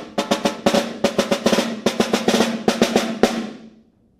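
Snare drum etude for eighth-grade all-state, played with accents and drags: rapid crisp strokes with grace-note flams and louder hits scattered through tight groupings, near and unaccompanied, the final stroke ringing briefly.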